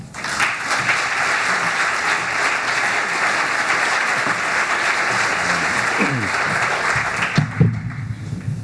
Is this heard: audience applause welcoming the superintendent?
yes